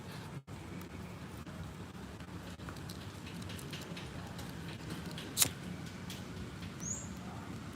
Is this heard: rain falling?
yes